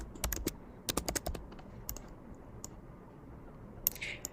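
Someone types on a computer keyboard, with close, crisp key clicks in quick irregular bursts followed by a few scattered taps and a louder final click, and no voices.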